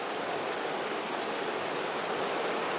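The Uinta River flowing, a dense, steady rushing roar of moving water, loud and unbroken from start to finish with no voices.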